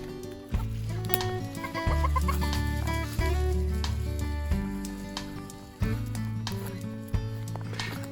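Backyard chickens cluck steadily in a garden area planned as a chicken run, several birds close by with repeated, overlapping calls and a few louder squawks.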